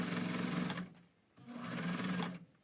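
A sewing machine stitches quilt fabric in two bursts of rapid, whirring needle strokes, separated by a brief pause, close and steady with no talking.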